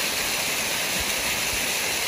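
Water streams down from a big rock outdoors in nature, a steady broadband rush filling the whole moment at constant level, with no voices.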